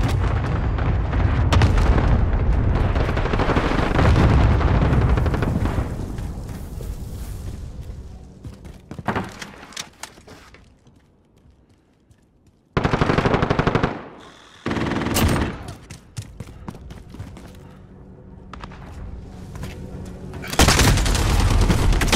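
A cluster strike and gunfire in Call of Duty: Modern Warfare roar in heavy sustained bursts of machine-gun fire and explosions, drop to a lull, then return in loud rolling barrages and booms.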